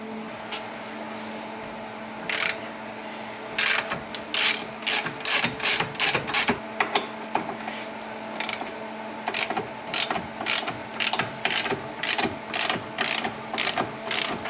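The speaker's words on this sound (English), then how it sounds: "Both of these are a 21 millimeter, so I'm going to use my impact socket set on those" An impact tool with a socket loosening 21 mm sway bar link bolts on a Cadillac CTS AWD rear suspension, heard as a series of short, sharp rattling mechanical bursts in a steady rhythm over a constant background hum, with no talk.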